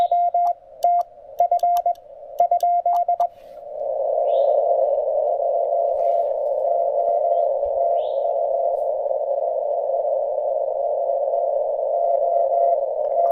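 Penntek TR-45L QRP transceiver receiving a ham radio signal outdoors in a state park: short keyed Morse beeps, then one long steady tone held clearly and alone.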